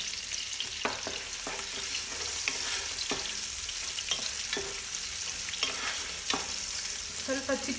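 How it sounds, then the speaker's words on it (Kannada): Sliced onions frying in oil in a large non-stick pot for chicken biryani, with a steady sizzle and a spoon scraping and stirring in repeated close strokes, no voices. "ಈರುಳ್ಳಿ ಚೆನ್ನಾಗಿ ಕೆಂಪುಗೆ ಆಗಲಿ, ಸ್ವಲ್ಪ ಆಲ್ಮೋಸ್ಟ್ ಚೂರು ಬ್ರೌನ್, ಡಾರ್ಕ್ ಬ್ರೌನ್ ಆಗೋಷ್ಟು ಹುರ್ಕೊಳ್ಳೋಣ"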